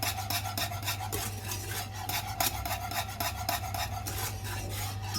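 Custard being whisked vigorously as it thickens, for a vanilla slice: a steady, continuous scraping rasp of a whisk against the pan at close range, with rapid rhythmic strokes and no voices.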